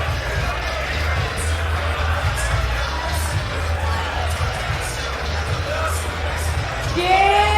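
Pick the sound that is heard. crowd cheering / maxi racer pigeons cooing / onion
crowd cheering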